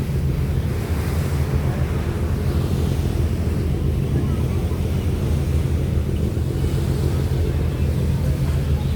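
A passenger launch ship speeds along the Meghna river, heard from an upper deck as a steady, loud rush of water and wind buffeting the microphone, with a low engine rumble beneath.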